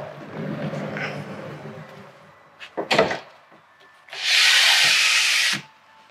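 A camper van's mosquito screen door is opened: soft rustling and a couple of sharp clicks and knocks, then a loud, steady hiss-like swish lasting over a second, all close up.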